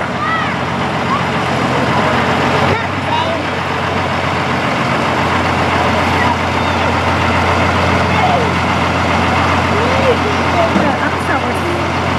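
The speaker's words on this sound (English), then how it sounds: "Big old truck." A big old truck idles at a Mardi Gras parade, its low steady engine rumble running continuously under loud crowd noise and people talking nearby.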